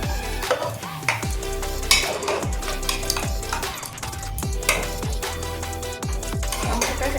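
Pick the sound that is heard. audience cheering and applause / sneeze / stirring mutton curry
stirring mutton curry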